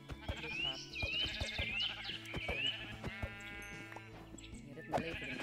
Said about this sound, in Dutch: En ik zie schapen.